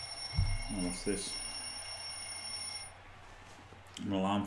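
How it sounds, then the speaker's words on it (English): A ringing alarm in the Blood Bowl 2 video game, a steady high electronic tone that sustains for a few seconds and then cuts off, with someone talking over it at the start and end. "An alarm for some reason."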